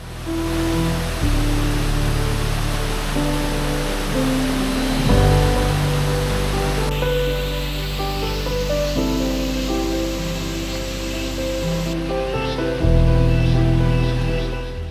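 Rushing stream water near Iripp waterfall in Karnataka during the monsoon, a steady, dense roar of flowing water that stays loud and unbroken throughout, with a faint low tonal layer beneath.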